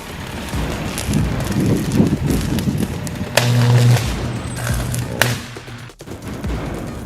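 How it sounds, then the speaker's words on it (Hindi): An electrical transformer explodes during a fire: a loud boom and several sharp cracking bangs burst out over roaring wind noise and crowd commotion, followed by a brief drop and continued rumble. "और तभी ट्रांसफार्मर में जोरदार धमाका हुआ।"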